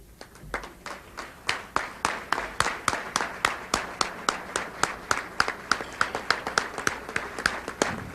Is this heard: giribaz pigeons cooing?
no